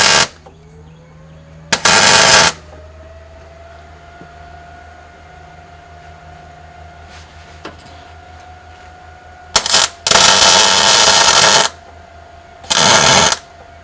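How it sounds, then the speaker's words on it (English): A welder crackles in loud bursts, one short, then a longer run and another short burst, while a loose track bar on a lifted Jeep TJ is welded, with a steady machine hum between the bursts. "All right, so I'm going to try to put a little weld here."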